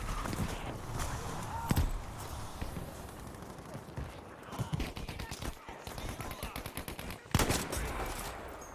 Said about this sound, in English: That's the MG42.